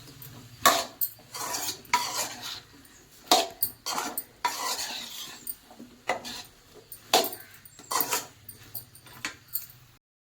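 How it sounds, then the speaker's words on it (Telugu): Okra curry being stirred in a metal pot with a spoon, repeated scraping and clinking strokes in an uneven rhythm, close and fairly loud, with no talking. "సో బెండకాయ ముక్కలు కూడా వేసుకొని మనం బాగా కలిపేసుకొని మూత పెట్టేసుకుందాం."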